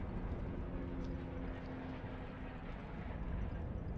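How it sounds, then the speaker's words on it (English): A loud helicopter passes overhead during a Dark Souls 2 co-op session, a steady broadband rotor drone with a low thrum filling the clip at constant level, no voices. "That's a loud ass helicopter."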